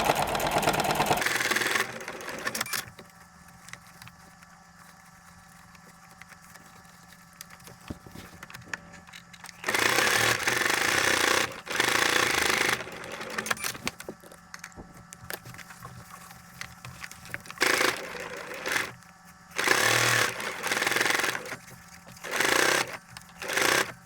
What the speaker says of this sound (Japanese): さっき縫い止まった場所からまた縫い始めよう。